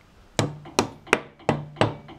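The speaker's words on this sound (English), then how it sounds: "We'll just get a little plastic hammer here and see how that goes." Five sharp, evenly spaced taps of a plastic hammer striking a metal aeroplane propeller shaft coupling ring out close by, each with a short bright decay, in a steady rhythm.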